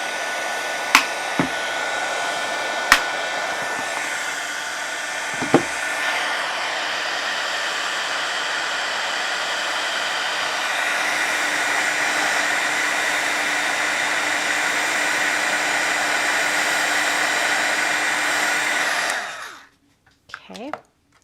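An electric crafting heat tool runs as a continuous loud blowing whir for about nineteen seconds with a few small clicks, then switches off abruptly.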